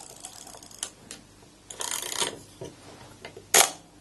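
A Zenit SLR camera's cloth focal-plane shutter fires indoors up close, giving a few sharp mechanical clicks and a brief whirring rattle, then one louder snap near the end, with no talking.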